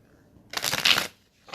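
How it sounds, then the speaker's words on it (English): A deck of tarot cards is shuffled by hand close up: one crisp riffling burst of about half a second, then a short quiet gap and a brief second flutter of cards. "shuffle here so we can get some clarifiers"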